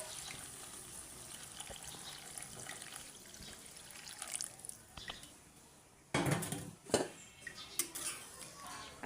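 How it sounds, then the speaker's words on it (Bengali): Water poured into a curry pot to make gravy, a soft steady trickle under kitchen clatter, followed near the end by louder clinks of a utensil against the pot. "এই দেখো আমি ঝোলের পানিটা দিয়ে দিচ্ছি"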